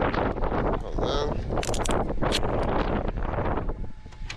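Strong wind gusting across an open area during a speed run of a single-motor RC car, loud rumbling microphone buffeting in bursts, with a person talking over it.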